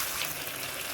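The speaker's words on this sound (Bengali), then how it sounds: "ভেজে রাখা আলুটা দিয়ে দিচ্ছি, তাই ভালো করে একটু কষিয়ে নেবো" Potatoes and chicken curry frying in a pan give off a steady, dense sizzle that stays constant and close for the whole brief moment, with no voices over it.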